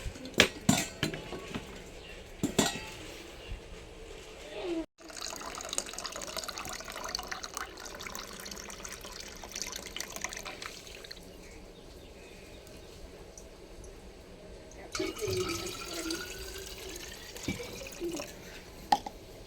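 Water poured into a bottle in a home kitchen, a steady trickle whose pitch rises as the bottle fills toward the end, with a few light clinks of dishes or cutlery nearby.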